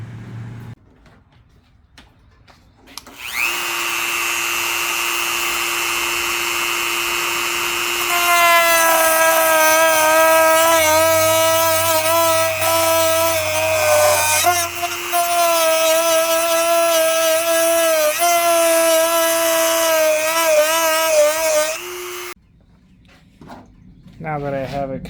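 A Dremel rotary tool cuts openings into the truck bed of a 2022 Santa Cruz for bull ring tie-down hooks, a sustained high whine that shifts pitch under load for about twenty seconds before stopping, close and loud.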